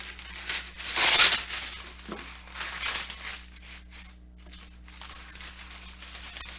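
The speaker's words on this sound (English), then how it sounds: "I do want to separate them with parchment paper." Parchment paper crinkles and rustles in a kitchen as it is laid between halves of frozen waffles, with soft, close handling sounds and quiet pauses between.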